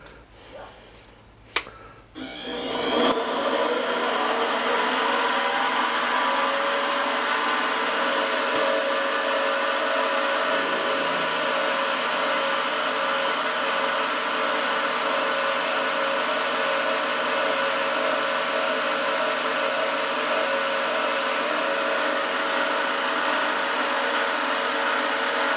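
A metal lathe switched on and spinning at about 500 to 600 RPM for a high-speed steel cut gives a steady, loud mechanical hum that starts after a few seconds of quiet handling clicks and holds evenly throughout.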